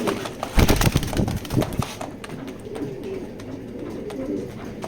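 Racing pigeons cooing inside a loft, soft throaty coos mixed with wing flutters and rustling, loudest early and then settling into quieter calls.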